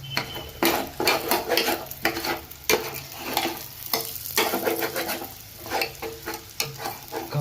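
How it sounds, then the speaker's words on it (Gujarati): Broken wheat roasts in ghee for faada lapsi while a spatula stirs it steadily, a run of rhythmic scraping and clinking strokes over a soft continuous sizzle, close up and with no voices. "ઘઉંના ફાડિયા શેકીએ ત્યારે તવીથાથી સતત હલાવતું રહેવાનું"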